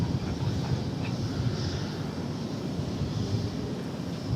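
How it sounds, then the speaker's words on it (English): An American Airlines Boeing 737 passes over a bridge near DFW Airport as a steady, distant jet roar mixed with wind noise. "Comes a plane over the bridge, American Airlines Flight 2631, 737, which does not list a destination."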